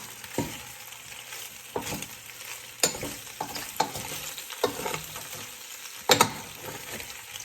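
Pasta being stirred in olive oil in a pan, with soft sizzling underneath and a series of sharp utensil scrapes and clinks at irregular intervals, close and fairly loud.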